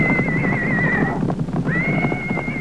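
A horse whinnies loudly with a long, wavering high cry, breaks off briefly, then resumes, over light rustling and background noise.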